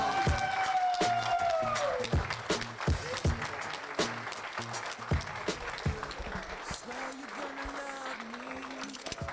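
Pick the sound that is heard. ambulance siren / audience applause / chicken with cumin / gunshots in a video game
audience applause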